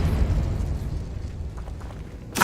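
An Expulso explosion spell in Hogwarts Legacy lands as a loud, deep boom that rumbles and slowly fades, then a sharp new burst cracks out at the very end, with no voices.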